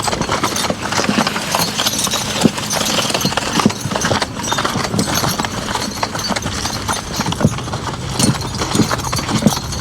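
Two work horses, Duke and Earl, clip-clop steadily on the ground, a continuous close rhythm of overlapping hoofbeats with faint outdoor ambience underneath.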